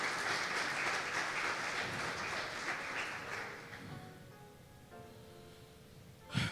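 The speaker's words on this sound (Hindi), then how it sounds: "जोरदार तालियां खुदा के लिए अगर आप बिलीव करते हैं।" Church congregation applauding God during a Hindi sermon, a dense sustained wash of clapping that thins out near the end, closing with a brief louder burst.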